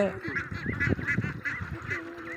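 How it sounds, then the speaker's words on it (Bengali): Ducks at a pond fenced in with fishing nets, honking and quacking in a nasal, repeated series of calls, fairly close and clear against light background noise. "ঘিরে রেখেছে, এখানে হাঁস থাকে"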